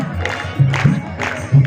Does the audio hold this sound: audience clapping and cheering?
yes